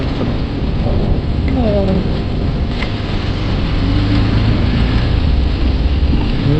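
Steady heavy rain fills the scene with a low rumble of thunder rolling underneath, continuous and loud throughout.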